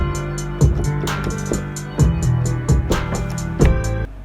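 Grand piano chords layer over a drum beat with bass and bell chords, sustained tones ringing under steady kick, snare and hi-hat hits, the full mix cutting off near the end.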